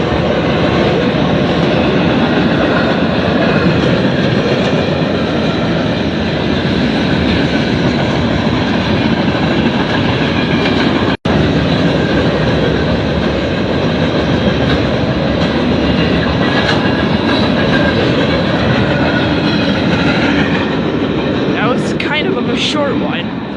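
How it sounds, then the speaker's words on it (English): A freight train carrying farm equipment rolls steadily past at close range in Chesterton, Indiana, with a continuous loud rumble and clattering wheels on rails throughout, ending with a few squeals. "That train was carrying farm equipment."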